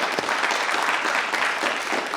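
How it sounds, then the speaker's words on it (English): An audience at a school board meeting claps for students, a moderate burst of scattered hand clapping that carries steadily through the short span in an indoor room. "Round of applause for these fine folks."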